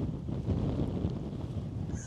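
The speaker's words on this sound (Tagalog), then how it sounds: "grabe yung hangin" Strong wind on Jeju Island buffets the microphone in a short, steady low rumble with no voices over it.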